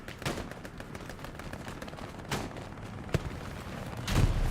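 Gunfire in the World War II shooter Hell Let Loose, a few scattered shots and bursts at moderate distance over a busy battlefield rumble, with a louder thump near the end.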